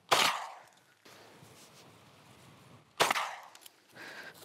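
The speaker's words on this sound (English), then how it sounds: "So let's take a couple shots" Two sharp, loud shotgun blasts fired at a target through a modified choke set between improved cylinder and full, spaced about three seconds apart, each with a short outdoor decay.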